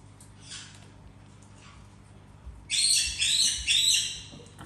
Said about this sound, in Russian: Африка, на кого ты смотришь? На птичек.